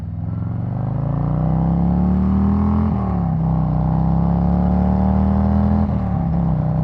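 A 2021 Harley-Davidson Road Glide Special with a Snake Venom engine rumbles steadily while riding, its loud, deep exhaust note holding constant with slight rises and dips in revs throughout, close and uninterrupted.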